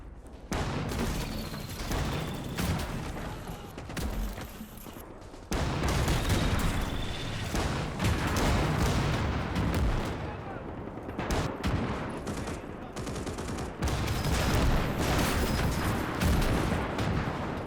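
Dense gunfire, machine-gun bursts and artillery booms from a trench battle in the Winds of Iron 1920+ mod, with Saxonian mechs attacking Rusviet trenches; loud, continuous overlapping shots and blasts throughout, with no pauses.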